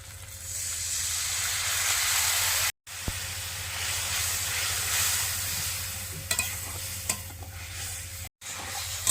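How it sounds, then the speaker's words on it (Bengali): Spice paste of turmeric, chili and cumin with water frying and being stirred in a pan, a loud continuous sizzle and hiss with scraping stir strokes and a couple of brief cuts, close up. "এবারে ভালো করে মশলাটা কষিয়ে নেব"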